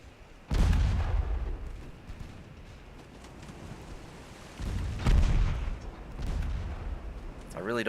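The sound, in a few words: naval artillery fire in video game Ultimate Admiral Dreadnoughts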